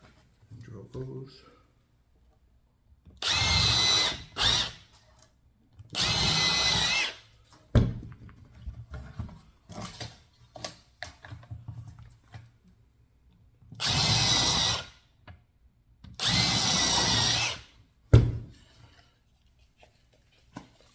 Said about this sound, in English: Drill those.